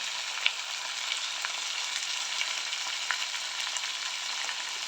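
Chicken pieces frying in a pan make a continuous, even, crackling sizzle close up, with small pops scattered throughout and no voices.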